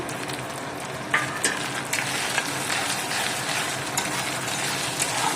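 Goat brain fry cooking in oil with chopped green chillies gives a continuous nearby sizzle, with sharp scraping clicks of a spatula stirring the pan at uneven intervals.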